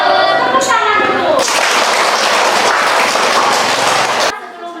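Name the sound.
children applauding in class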